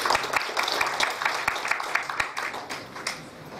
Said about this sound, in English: I think we should give Jonathan a round of applause